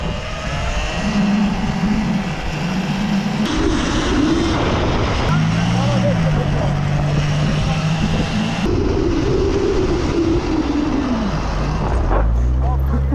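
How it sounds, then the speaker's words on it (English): A Sur-Ron Ultra Bee electric motorbike whines as it accelerates and slows, its rising and falling motor pitch mixed with loud wind rush and occasional talk close by. "All right, first time riding the Ultra Bee."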